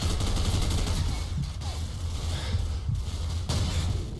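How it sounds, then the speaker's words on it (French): Dense, rapid gunfire in Call of Duty 4, a continuous rattle of shots with a few heavier bursts, loud and close throughout. "Je lui tire 10 balles dans la gueule, il meurt pas très bien"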